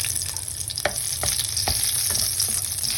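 Beef sizzles while being sautéed in a pan for afritada with pineapple, a constant close frying hiss broken by scraping clicks from stirring.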